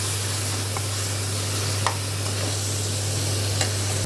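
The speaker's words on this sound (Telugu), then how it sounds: "ఇది కొంచెం పచ్చివాసన పోయేదాకా వేయించుకుందాం" Spices fry in a hot pan with a steady, dense sizzle, broken by a few faint scrapes of a spoon stirring them until the raw smell cooks off.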